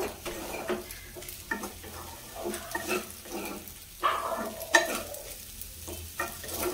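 Coriander leaves stirred into sago upma in a pan, a steady soft sizzle with repeated scraping stir strokes at close range, no talk.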